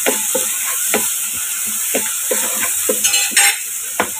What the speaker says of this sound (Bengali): চিংড়িটা একটু ফ্রাই করে নিব